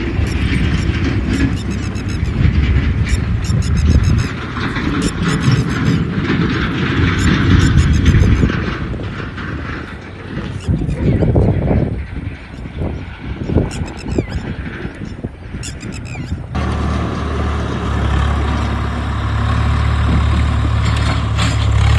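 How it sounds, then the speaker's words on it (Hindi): Tractors hauling trolleys drive off from an illegal mining site, loud rumbling diesel engines and rattling loads close by, shifting in pitch and intensity as the vehicles pull away. "चालक अपने ट्रैक्टर भगा ले गए।"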